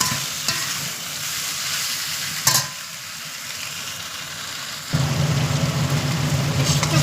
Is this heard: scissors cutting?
no